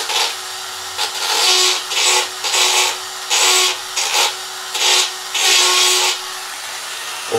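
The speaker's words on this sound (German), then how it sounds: "600er Schleifpapier." Steady rhythmic rasping of 600-grit sandpaper rubbed by hand on a Kymco Agility scooter part, in short back-and-forth strokes with brief pauses between, close and fairly loud.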